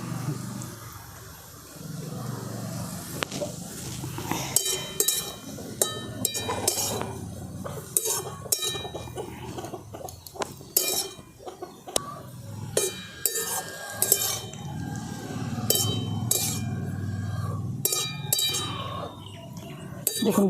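A spatula clinks and scrapes against a pan as a ripe mango sweet mixture is stirred in ghee, with repeated metallic taps and rattles close by over a steady low background.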